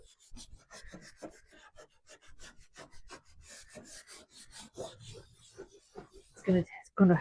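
Brown aging wax is rubbed by hand into raw wood furniture, giving a rhythmic series of close, raspy scrubbing strokes with a few louder strokes near the end.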